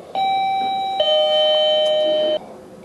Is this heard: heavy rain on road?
no